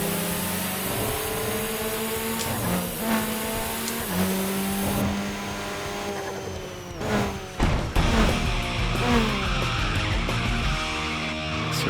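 Cars in the Tokyo Xtreme Racer video game roar and rev under sustained engine drone, with tonal tire-squeal streaks sliding in pitch throughout and a louder burst of revving and skidding near the end.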